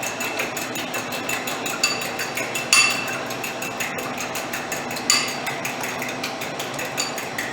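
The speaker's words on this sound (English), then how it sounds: "we're going to mix the eggs, and I like to use a fork" Eggs are whisked with a fork in a bowl for a French omelet, a fast steady run of light clicking and tapping strokes against the dish, close and continuous with no talking.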